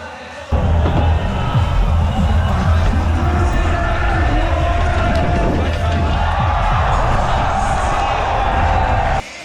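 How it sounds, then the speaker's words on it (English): A crowd cheers and roars at the District Ride 2022 BMX finals after a rider lands a twister trick. The loud, sustained noise of the crowd surges in after half a second and holds, with voices mixed into it. "Listen to the crowd."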